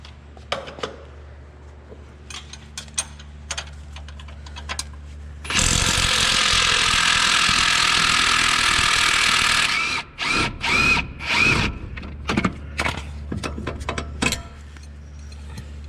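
Power tool or ratchet spinning off a Jeep JL shock bolt with an 18mm socket, one loud sustained whir of about four seconds, then short bursts and clicks in a quiet garage.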